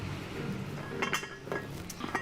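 A metal cooking pot is handled in a home kitchen, giving a few light clinks and knocks against other cookware in the second half. The sounds are moderately close over a low room hum, with no talking.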